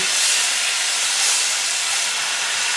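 Steak sizzling in oil on a grill, a steady bright hiss of frying fat that stays loud and even throughout.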